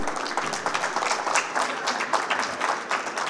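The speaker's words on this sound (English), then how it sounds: "I think that round of applause could be louder" A full-house audience applauds at a jewellery company event, dense, even clapping from many people held at a strong, steady level throughout.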